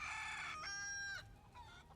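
Chickens clucking and crowing in the video game Final Fantasy 7 Rebirth, a loud close run of clucks that falls back to fainter clucking after a second, with no talking.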